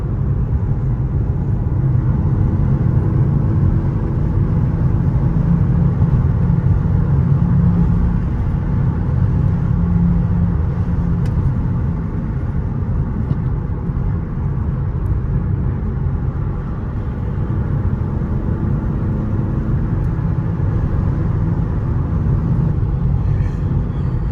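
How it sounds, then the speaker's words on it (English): Audi A3 converted with an S3 swap cruising on a highway, heard from inside as a steady low engine and road rumble with constant tyre noise, no talking. "Let's do some normal driving on the highway"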